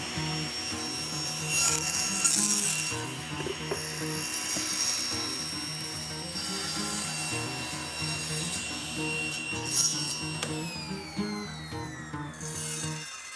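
A table saw fitted with a cross cut sled cuts through a piece of wood, producing a steady, loud mechanical whine and rasp that holds throughout with little change.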